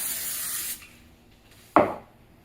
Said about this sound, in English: Since I don't have my shortening out for regular biscuits, I'm just going to spray it.